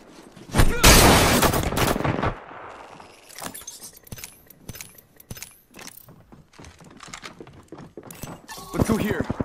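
Bursts of gunfire from the Apex Legends video game, a heavy burst up front and then scattered sharp shots and clicks, with a voice talking in between.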